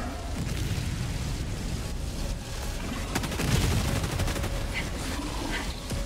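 Gunfire and explosions from a Helldivers 2 bug defend mission, with dense bursts of rapid shots and a heavier boom partway through after a grenade is thrown, loud and continuous throughout.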